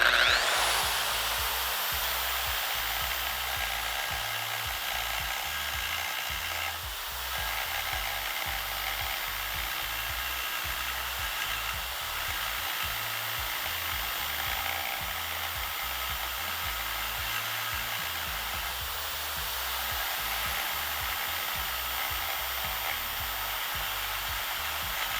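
A carbide burr bit in a high-speed rotary tool grinding down a metal weld, a steady, loud, high-pitched whine with a gritty edge, running continuously with only slight dips, alone with no speech.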